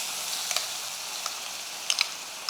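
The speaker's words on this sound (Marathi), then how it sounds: "आता हे वाटण या तेलामध्ये चांगलं तेल सुटेपर्यंत परतून घेऊ" Ground masala paste frying in hot oil for stuffed bitter gourd, a bright continuous sizzle with a few sharp pops and spits standing out near the end.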